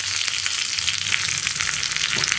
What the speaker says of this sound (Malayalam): നമ്മൾ ഇതിലേക്ക് ചേർക്കുന്നത് ഒരു വറ്റൽമുളകും കുറച്ച് കറിവേപ്പിലയും